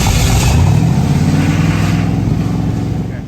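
A car engine, loud and close, revs hard and holds a raw, roaring drone over a little over three seconds, easing slightly toward the end, with no talk over it.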